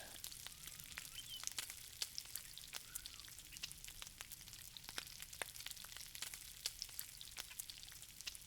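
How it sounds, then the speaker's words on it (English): Thin skirt steak sears in a hot pan, a faint, steady sizzle with scattered sharp crackles and pops throughout. "That's a sear, ladies and gentlemen."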